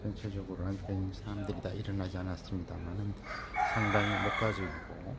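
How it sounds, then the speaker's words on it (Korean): A rooster crows now and then at dawn around 6:30 in a quiet rural spot overlooking the Mekong River at Chiang Khong, with a construction site nearby. The crowing sounds faint and distant beneath someone talking steadily close to the microphone. "가끔 지금 닭 울음 소리가 납니다만은"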